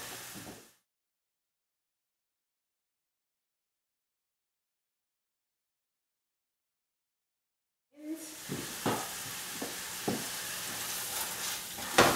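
Food browning in a hot pan, following microwave-cooked winter squash: a steady close sizzle and fry with a few sharp pops and taps, starting after a long stretch of silence.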